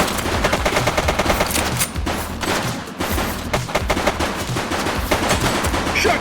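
Rapid automatic gunfire in The Precinct video game, with loud, sustained bursts of shots rattling continuously from start to end, pausing only briefly.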